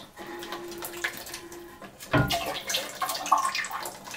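Water is emptied from a toilet cistern: a faint hum gives way to a sudden gush of splashing, gurgling water that continues unevenly and close by for the remaining seconds.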